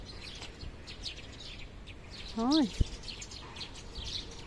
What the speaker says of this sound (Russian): А птицы как поют.